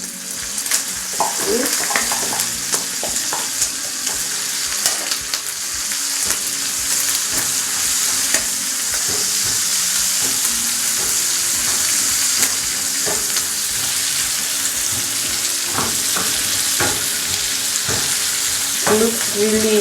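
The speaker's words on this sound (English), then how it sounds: "so we'll just stir a bit until the onions are a bit brown" Onions sizzle steadily in a hot pan while a spoon scrapes and stirs them in repeated short strokes, close and fairly loud, with a brief spoken word over the frying.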